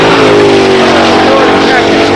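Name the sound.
Porsche twin turbo race car engine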